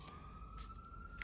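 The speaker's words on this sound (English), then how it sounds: "Oh, and I have a siren right there" A distant emergency siren holds a faint, steady, slightly rising wail that runs through the short stretch under a quiet background.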